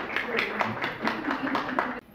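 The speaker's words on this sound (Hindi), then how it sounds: "एक बार जोरदार तालियां टीम रूरल पोइट्स के लिए" Audience applause for the Rural Poets team at a Hindi poetry event, a steady wash of clapping for about two seconds that stops abruptly, with some voices mixed in.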